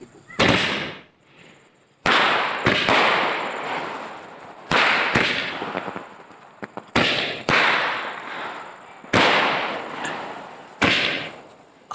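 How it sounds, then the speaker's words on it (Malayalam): Firecrackers and fireworks explode at an evening Vishu celebration, sharp loud blasts roughly every one to two seconds, each trailing off in a crackling, rumbling decay. "കമ്പക്കെട്ട് പടക്കങ്ങളും എല്ലാമാണ് കാണിച്ചുകൊണ്ടിരിക്കുന്നത്."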